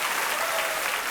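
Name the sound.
studio audience applause on game show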